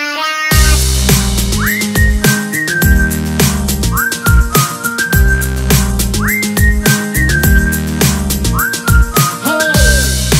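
Cheerful whistled melody carried over a bouncy Slovak children's pop song, with a full band and sung vocals; the whistle phrases recur in short rising bursts and stay prominent and close throughout.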